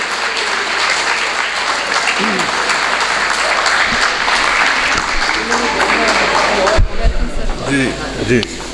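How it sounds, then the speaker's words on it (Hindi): Audience at a poetry gathering breaks into loud, continuous applause, many hands clapping close by for most of the stretch, then thinning out as a voice begins speaking near the end. "तालियां कम हैं, तालियां रुकनी नहीं चाहिए।"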